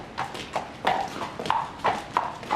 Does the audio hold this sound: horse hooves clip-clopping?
yes